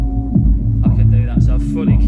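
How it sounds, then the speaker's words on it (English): Deep bass rumble plays through a Rane MP2014 two-channel rotary DJ mixer with everything but the low end cut, throbbing in a steady beat-like pulse about every half second. "we're just going to get that proper nice low end rumble"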